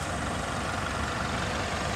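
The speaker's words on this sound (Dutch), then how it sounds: "Er zit die nieuwe dieselmotor in, Ingenium diesel, 2 liter." 2-litre Ingenium diesel engine running slightly rough, a steady low, grumbling idle with a continuous dense hum and no break, heard close and moderately loud.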